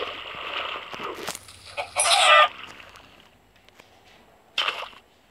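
Chicken clucking in a survival video game, a few short bursts of clucks and squawks up close with quiet pauses between them.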